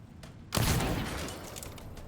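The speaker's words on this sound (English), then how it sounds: "You think anyone heard all of those gunshots?" Gunfire in the video game Dishonored 2 breaks out as a sudden loud burst, followed by a decaying, reverberant wash of noise.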